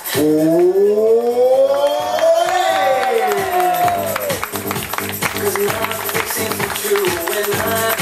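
Audience applauding water ski show performers at La Pointe aux Canonniers, a dense patter of claps and cheers building under a loud announcer's voice with music, continuing steadily to the end.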